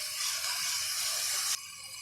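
Vegetables sautéing in a little oil give off a steady, close sizzling hiss that runs evenly, then drops slightly in level near the end.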